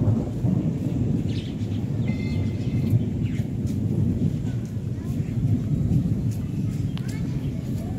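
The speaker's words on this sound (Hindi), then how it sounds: "ऊपर बादलों की आवाज़ भी आपको आ रही होगी कि बादल किस तरह से गरज रहे हैं।" Thunder from clouds overhead rolls in a steady, heavy low rumble through windy outdoor weather. It stays loud and continuous from start to end.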